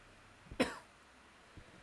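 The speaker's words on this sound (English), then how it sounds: "excuse me if I cough into the mic" A single short cough from a lingering illness, sharp and close, followed by a faint throat sound and quiet background.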